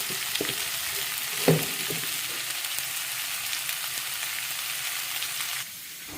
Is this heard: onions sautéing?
yes